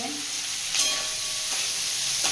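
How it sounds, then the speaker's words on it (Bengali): Chopped tomatoes frying lightly in a pan with capsicum for chilli paneer, a steady close sizzle with a few brief stirring scrapes, no talking. "সব হালকা করে ভেজে নেব"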